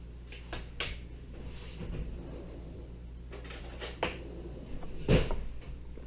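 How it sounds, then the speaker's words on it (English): Flour being scooped into a measuring cup in a home kitchen, heard as soft scrapes and light clinks of the cup against the container, with a sharper knock near the end, quiet and close. "I'm scooping my flour into this cup, and I'm going to overfill it a little bit"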